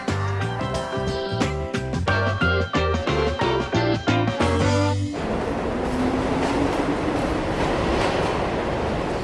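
A New York City subway train runs through a tunnel with a loud, steady roar and rumble, taking over after a stretch of rhythmic music and carrying on continuously to the end.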